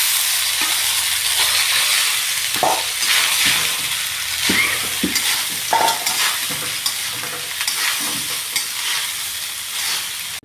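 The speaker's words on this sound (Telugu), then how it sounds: "ఇప్పుడు దీంట్లో మనం రైస్ వేసుకుందాం." Rice stirred into a frying pan with crisp-fried ajwain, a loud continuous sizzle broken by repeated spoon scrapes and clatters, close up with no talking.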